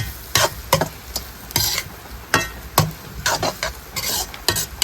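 Onions, tomatoes and chillies for Coca-Cola egg fried rice are stirred in a sizzling pan, with sharp repeated scrapes and clanks of a utensil over a continuous frying hiss, cooked outdoors in the rain.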